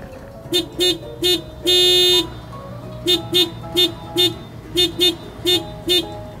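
A Kia Seltos car horn honks in short repeated beeps, one longer blast among them, loud and close against quiet background.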